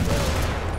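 Gunfire in the video game Dying Light, a short, dense burst of rapid shots blending into one loud, continuous rattle with no pause and no talk over it.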